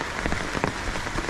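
Rain falls steadily in the Sinharaja rainforest, a dense, close patter of drops striking leaves and surfaces without pause.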